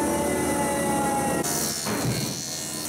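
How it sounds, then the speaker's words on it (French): A loud, steady wood planer roars with a dense, broadband whine that shifts partway through, as if cutting changes, continuing without pause. "une raboteuse"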